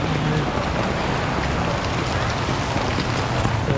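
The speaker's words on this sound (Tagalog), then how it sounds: "Ayan, lakas ng ulan." Heavy rain pouring down onto a flooded residential street, a dense, steady broadband roar of water that stays loud and unbroken throughout with no distinct voices.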